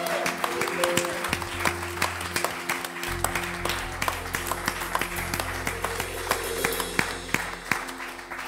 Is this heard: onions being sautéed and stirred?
no